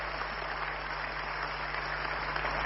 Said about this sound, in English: Shall we give our national chairman another rousing round of applause?